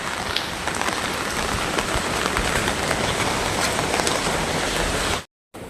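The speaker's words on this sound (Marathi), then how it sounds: "तर कंटिन्यू पाऊस चालूच आहे" Continuous rain falls as a dense, even hiss with scattered drops striking a surface, loud and steady before cutting out briefly near the end.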